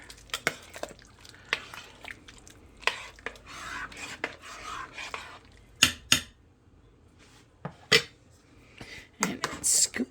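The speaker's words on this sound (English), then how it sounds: "Give that a stir." A spoon stirs lasagna soup in a pot, giving scattered scrapes, clinks and knocks against metal, close and uneven, with quiet gaps between bursts.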